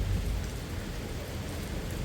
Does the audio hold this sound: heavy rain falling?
yes